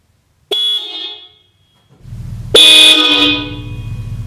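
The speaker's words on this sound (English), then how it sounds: "how it sounds now with the Hella horns plus the OEM horns" Horn blasts from a 2016 Subaru WRX, first a short tone from the stock horns, then a louder, brighter blast from Hella aftermarket horns sounding together with the stock pair; both are close and very loud, with an idling engine rumbling between and under them.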